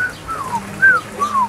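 Brazilian parrots on Porto Santo, Madeira, whistling: four clear, descending whistled notes in quick succession, close and fairly loud over a soft outdoor background.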